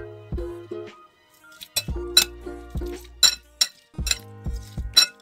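A utensil repeatedly clinks against a bowl while a bitter gourd salad is tossed with vinegar, giving a series of sharp, close taps and rattles in irregular rhythm with brief pauses.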